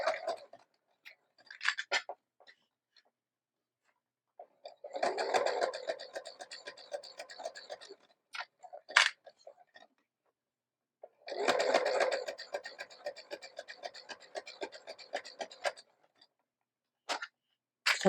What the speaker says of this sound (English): I'm just slowly stitching and looking to see